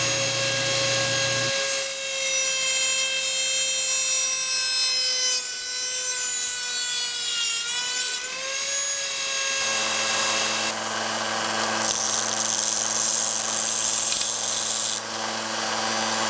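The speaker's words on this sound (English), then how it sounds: "you're going to take your Dremel tool with the cutoff wheel, and you're going to cut just on the inside of this line here" A Dremel rotary tool with a cutoff wheel cuts through PVC pipe for a homemade lightsaber, its high whine holding steady and dipping in pitch as the wheel bites, loud and close with no talking.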